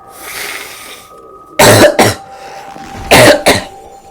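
Close, loud coughing from one person: two sharp double-bursts about a second and a half apart, set against a quiet background hum.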